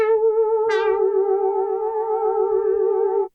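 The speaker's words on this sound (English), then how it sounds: "I added what's called a bing bong part, and it sounds like this." A bing bong synth part, a clean sustained tone with gentle wobble and a bright accent note struck early, ringing steadily for several seconds before cutting off abruptly, heard alone.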